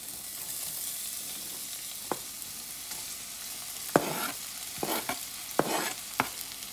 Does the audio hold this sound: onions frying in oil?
yes